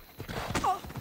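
Horse hooves clip-clop in Assassin's Creed Odyssey, a quick, soft rhythmic patter of steps mixed with other game sounds.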